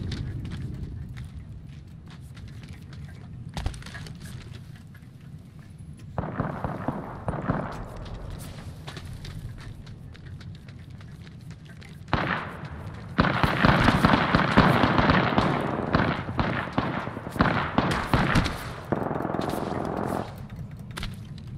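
Bursts of automatic gunfire in the battle royale game Apex Legends, sharp rapid cracks in clustered volleys over several seconds, close and loud amid ongoing game sounds.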